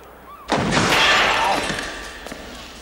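A single sharp gunshot crack in a wartime action film scene, loud and close, with a broad echoing burst that decays over about two seconds.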